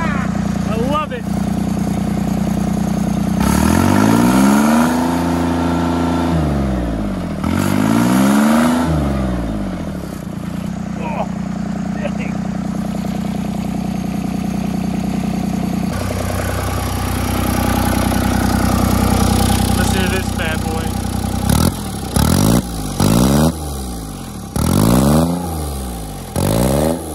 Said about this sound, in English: I can hear that turbo whistling too.